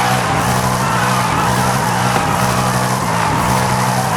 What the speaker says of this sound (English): You hear me hitting your high revs because I'm using the e-brake.